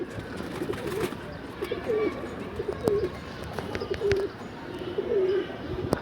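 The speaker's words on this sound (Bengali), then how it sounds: "ওই যে লেস কাটা বাচ্চা দেখেন উপরের থেকে আরেকটা নামতাছে।" Sky pigeons at a rooftop loft coo in repeated soft, rolling calls, with occasional sharp wing claps and flutters as birds come down, over a faint outdoor background.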